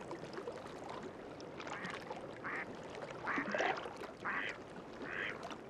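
Mallard ducks quack in a short series of calls over steady outdoor water ambience, moderately distant and fairly soft.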